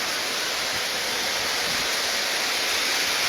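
Torrential rain lashes a river bank near a ferry and steamer landing, a loud, steady, dense wash of noise with no breaks and no voices.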